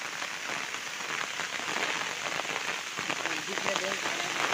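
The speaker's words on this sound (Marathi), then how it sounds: "त्याच्यात पाऊस पण येतोय." Steady rain patters on a surface, a dense continuous hiss of drops with faint voices in the background.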